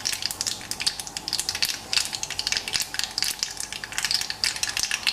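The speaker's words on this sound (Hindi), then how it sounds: "तेल गरम होने के बाद राई डालिए, राई चिटचिट होने के बाद" Mustard seeds spluttering in hot oil in a pan, a dense, continuous crackle of rapid sharp pops, close and moderately loud with no voices.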